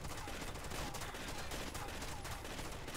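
Gunfire in the tactical shooter Rainbow Six Vegas, a dense continuous rattle of rapid shots, faint and steady throughout.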